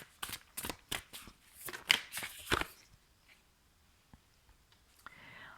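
A single playing card is laid onto a deck in a series of soft, quick papery taps and shuffles, close and quiet, fading into near silence with faint rustles.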